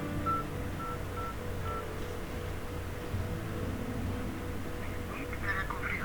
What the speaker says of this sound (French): Là, je vais essayer de mettre mon téléphone dans la conférence. Je vais taper le 5000.